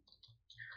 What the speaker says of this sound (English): So I just type